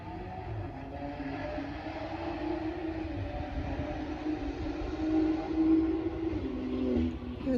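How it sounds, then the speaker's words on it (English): Car driving through a quiet neighborhood at night, a steady low rumbling hum that swells slightly toward the end as it passes, heard at a moderate distance with no talking. "You guys hear that car?"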